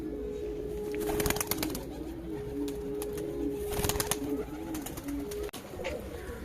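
Pigeons coo in soft repeated low phrases at close range, with brief wing flutters and rustling among the birds.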